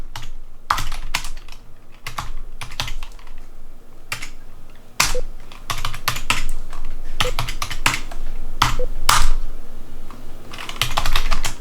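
Rapid clicking keystrokes on a computer keyboard while setting up a Raspberry Pi Zero 2 W NAS, close and crisp, in irregular bursts with brief pauses, no voices.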